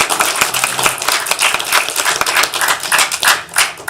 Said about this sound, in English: Everybody give Jace a big round of applause.